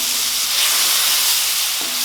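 Boiling water poured into roasted flour in a hot pan for halwa makes a loud, continuous sizzling hiss with bubbling steam, close and steady for about two seconds.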